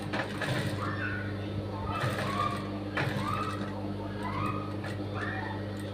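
A sewing machine stitches the back neck of a blouse, a steady whirring chatter with soft rhythmic mechanical ticking pulsing about once a second, moderately faint under a constant hum.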